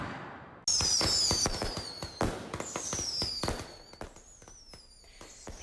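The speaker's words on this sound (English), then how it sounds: "People setting off fireworks every night like it's the 4th of July." Fireworks going off at night in a city neighborhood, a sharp burst of loud crackling bangs and whistling shells layered in rapid succession, then continuing as scattered pops and fizzing whistles that fade slightly toward the end.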